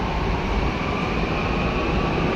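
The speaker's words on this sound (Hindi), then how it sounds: "पहले ये मेट्रो निकल जाए, बहुत शोर है इसका भी यार।" A metro train roars past nearby, a loud, steady rumble and rush of noise filling the whole stretch without letup.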